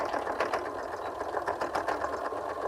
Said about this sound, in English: And then I sew that fold down on the edge right there.